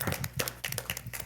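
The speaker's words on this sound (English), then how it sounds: "Give yourselves a round of applause" A short burst of clapping from student advisory council members at a meeting, close, uneven hand claps lasting about a second.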